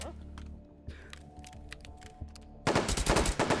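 A gun fires a full-auto burst near the end, a rapid string of loud, close cracks after quieter handling and clicking sounds.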